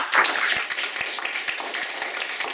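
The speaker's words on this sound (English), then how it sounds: "one more time, a round of applause for our panelists" An audience applauding panelists at the close of a conference session, a dense steady patter of many hands clapping, moderately loud throughout.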